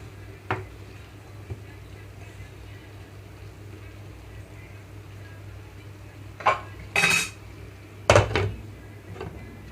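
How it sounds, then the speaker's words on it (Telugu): A metal lid is set down on a pan of cabbage cooking for a cabbage tomato chutney. Two or three close clinks land near the end, over a low, steady kitchen hum. "మూత పెట్టేస్తున్నాను మళ్ళీ"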